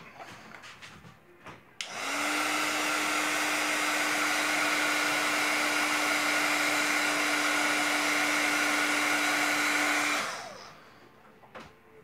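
A heat gun blows hot air onto a freshly painted custom fishing lure: a steady whooshing hum with a faint whine that starts abruptly, runs about eight seconds close by without talk, then cuts off.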